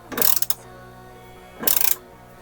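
Ratchet tightening coilover top-mount screws on a BMW E46, two quick bursts of rapid clicking separated by a pause, close and clear.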